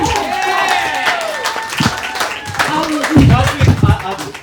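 Audience at a Gold Coast comedy panel show clapping and whooping under loud, excited chatter, with cheers swelling near the end.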